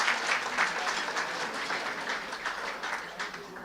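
Sustained applause from a banquet audience at a university student-athlete awards dinner, a dense even wash of many hands clapping in a large room throughout.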